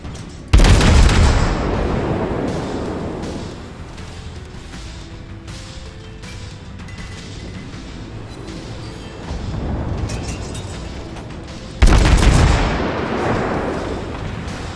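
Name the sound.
cruiser naval guns firing in World of Warships video game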